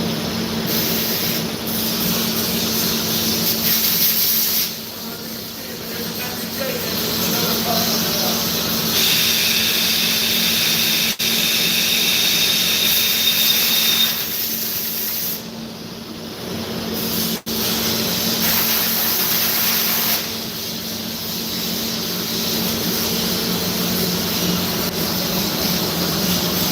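Compressed air blasting steadily through a nozzle, a loud, continuous broadband hiss that runs for long stretches, briefly drops off and then resumes, with the pitch shifting slightly as the jet moves.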